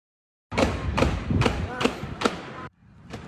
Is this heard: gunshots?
yes